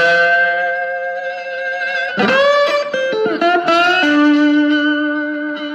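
Slide guitar notes played with a wooden slide ring out, sliding and shifting pitch through a short phrase on an electric guitar with an effected tone, less sustain, and a sustained final note.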